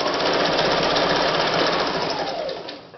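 A sewing machine stitching fabric in curving arcs to draw a spider web in thread, running as a loud, rapid, continuous mechanical buzz that tapers off at the end.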